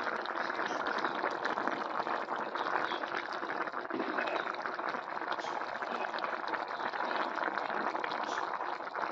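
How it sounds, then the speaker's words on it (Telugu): Egg curry simmers in a pot with masala and tamarind water, giving a steady, soft bubbling that carries on evenly throughout without speech. "చూడండి, కూర అయితే ఉడుకుతుంది బాగాని."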